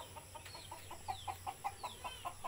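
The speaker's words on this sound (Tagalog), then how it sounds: "May manok guys." Chickens cluck in a short run of soft, evenly spaced calls outdoors on a farm, quiet and somewhat distant, with no talk over them.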